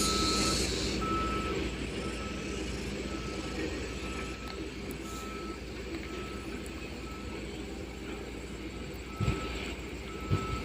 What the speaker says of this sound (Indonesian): Nah, ini truknya,